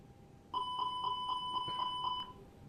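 An Airbus A320neo cockpit fire-test alarm for engine 2 in a flight simulator: a steady electronic tone with a rapid repeating chime pulsing about seven times, loud and clear, lasting under two seconds with no talking.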